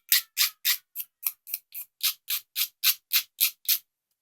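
Small scissors snip pieces for a 1:12 scale miniature dollhouse bench, fifteen crisp, close cuts in a steady, even rhythm with silence between them.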